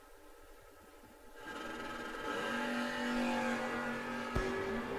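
A drag racing Chevy Nova and a rival car launch at a no-box event, engines climbing from a low idle into a loud, rising sustained roar with a sharp crack near the end.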